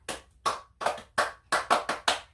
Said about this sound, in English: you have to do the clap